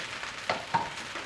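Fried rice with ginger and green onions searing in a hot pan gives off a soft, continuous sizzle, with a couple of brief scrapes from the spatula. No voices.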